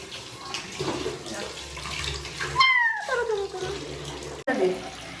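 Running water splashes steadily while a pet is bathed indoors, with a brief high-pitched cry partway through and some voices talking over the watery wash.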